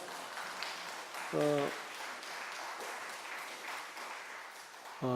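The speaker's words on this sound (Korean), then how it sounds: "다시 한번 큰 박수 부탁드립니다." Steady applause from a crowd fills a church during a Sunday service, with a brief voice-like tone cutting in partway through and again at the end.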